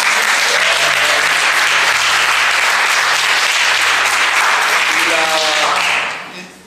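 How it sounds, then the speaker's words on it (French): A large crowd claps steadily and loudly at a celebration in the Lourdes sanctuary, a dense wash of applause that holds for about six seconds before fading out, with music or voices faintly beneath. "On peut acclamer le Seigneur."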